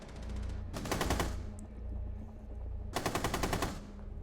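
Automatic gunfire in the video game Rainbow Six Siege, two loud rapid bursts of shots separated by a brief pause.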